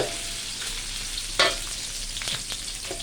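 Red curry paste being stir-fried in a pan for a Thai yellow bamboo shoot stir-fry, a steady close sizzle with scraping stirs and a sharper burst of spatter partway through, no voices.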